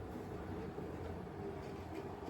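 A model train runs along an OO gauge layout at a model railway, a steady close rattle of wheels on track with no talk.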